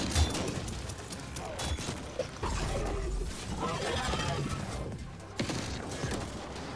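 Missile fire against a creature in The Ascent, with repeated blasts and bursts of impacts scattered through a busy, fairly quiet mix, with a voice talking at moments.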